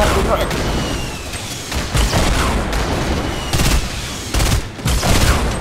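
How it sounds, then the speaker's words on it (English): Grenades go off in a Fortnite Blitz Squads match: several loud booming blasts at irregular intervals amid a constant crackle of rapid gunfire, with voices talking at times. "Oh, they're grenading."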